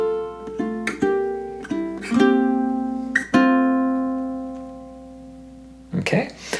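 Classical ukulele playing measures 7 and 8 of Andante No. 2, a short plucked etude passage. Clear, ringing single notes and sustained tones are picked close to the listener, and a voice starts speaking right at the end.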